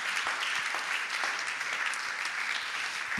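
A church congregation claps together during a sermon, a steady, even round of applause that fills the hall for several seconds with no voices over it.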